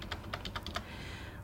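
Quick keystrokes on a computer keyboard as a search term is typed: about six crisp taps in a short burst, then a fade to quiet room tone.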